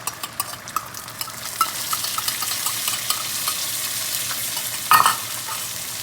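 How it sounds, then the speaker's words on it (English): Sambal chili paste sizzles and fries in a hot pan while a utensil scrapes and stirs it, with clattering taps early on and a sharper scrape near the end, no voices. "I'm gonna add our 1/2 cup of sambal chili paste."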